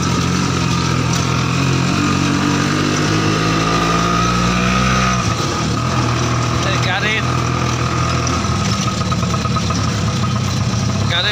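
A baby taxi auto-rickshaw engine runs close and loud, a rough chugging idle that shifts and revs midway, with a person talking over it throughout.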